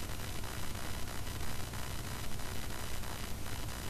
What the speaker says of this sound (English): As you hear, we got nothing but static.